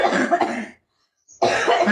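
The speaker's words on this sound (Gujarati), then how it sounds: "મમ્મી ને આટલી બધી ઉધરસ આવે છે" A woman coughs in two harsh, close bursts separated by a brief silence.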